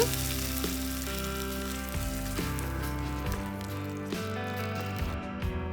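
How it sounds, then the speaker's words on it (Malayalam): Mustard seeds, three dried red chillies and curry leaves tempering in hot oil for a Kerala sadhya beetroot pachadi, a loud continuous sizzle with scattered popping close by, no talk. "കടുക് പൊട്ടി വന്നാല് കുറച്ച് വെച്ച ശേഷം ഇതിലേക്ക് ഉണക്കമുളക് മൂന്നെണ്ണം പിന്നെ കുറച്ച് കറിവേപ്പില കൂടി ഇട്ട് കൊടുത്ത്"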